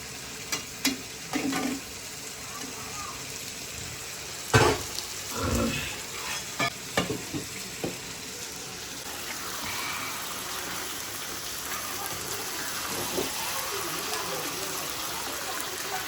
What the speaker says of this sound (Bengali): এই যে মাছটা দিয়ে দেবো এখানে